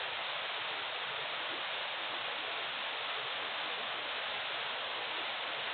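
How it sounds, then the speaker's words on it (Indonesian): Steady broadband rush of falling water from one of two waterfalls at Benang Stokel in East Lombok, continuous and fairly distant with no voices. "Nah, ada 2 air terjun,"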